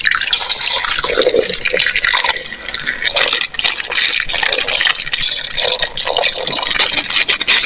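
Water is poured into a cooking pot holding vegetables and dried fish, a steady close liquid fill with splashing and dripping that runs without a break and without talk.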